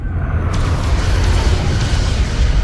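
Starship weapons pound an enemy ship in Star Trek: Resurgence, a sustained heavy booming roar that fills the whole stretch, loud and close with deep rumbling energy.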